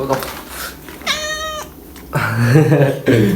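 A cat gives one clear, rising-and-falling meow in the middle, with people talking before and after it.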